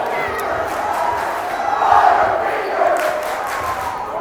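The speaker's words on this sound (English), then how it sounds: "And the Springville crowd letting him have it" Springville crowd at a boys varsity high school basketball game jeering a player, a loud swelling roar of voices in a gym that peaks twice, under a commentator's voice.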